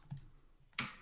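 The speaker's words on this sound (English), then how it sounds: "Typing is hard." Keys clack on a computer keyboard in a few scattered taps, then a louder burst of clicks near the end, close and brief with no talk.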